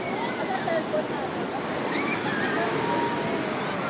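Steady rushing sea waves wash and churn continuously at a close distance, a dense broad roar with faint voices mixed in.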